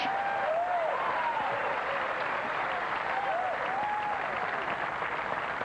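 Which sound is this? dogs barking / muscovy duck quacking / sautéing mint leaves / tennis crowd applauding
tennis crowd applauding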